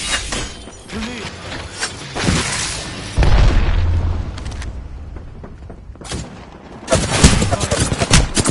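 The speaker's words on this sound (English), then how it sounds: "Grenade." A grenade blast and gunfire in a multiplayer shooter video game, with heavy booming explosions and rapid shots in bursts, loud and close, the biggest boom landing mid-clip and another burst near the end.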